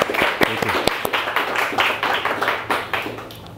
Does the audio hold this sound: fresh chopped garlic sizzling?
no